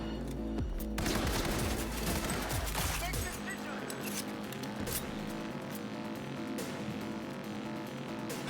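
Gunfire in Saving Evelyn Parker, a rapid volley of shots with rattling bursts early on, then scattered sharp reports continuing at a lower level over a quieter background.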